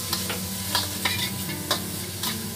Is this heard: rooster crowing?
no